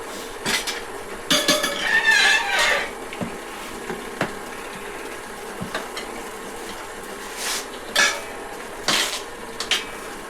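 Tire spoons prying and levering the bead of a dirt bike tire off the rim: scattered metallic clinks, scrapes and knocks at irregular intervals, fairly close, with no talking.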